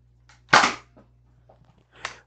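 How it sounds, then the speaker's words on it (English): A Zuru X-Shot Flux dart blaster fires once at an egg, a sharp snapping pop followed by faint mechanical clicks and a second, softer impact-like burst near the end. "shoot that egg"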